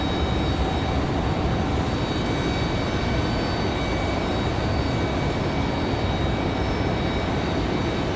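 An Airbus A320-200 arriving at Raleigh-Durham airport on a windy evening produces a loud, continuous broadband jet roar, steady and unbroken from start to finish, with no talking.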